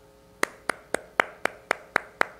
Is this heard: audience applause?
yes